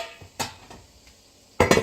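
A plate taken from a stack of dishes in a kitchen, giving a few sharp ceramic clinks and knocks, the loudest clatter near the end, with no talk.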